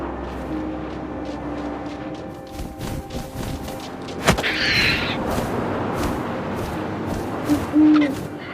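An owl hoots in the game What Remains of Edith Finch, a short clear call over quiet wind ambience with a couple of soft thumps, fairly near and standing alone without speech.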